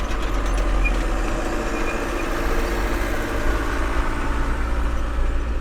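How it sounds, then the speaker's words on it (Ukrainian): A tractor working in a field during direct sowing into soybean stubble gives a steady, loud diesel engine drone with a constant low rumble, running unbroken throughout with no talking. "Хороший трактор в полі робить."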